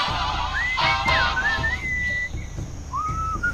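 Melodic whistling in the Sam and Max adventure game, a clear sliding tune of several rising and falling phrases, loud and close over a faint music bed.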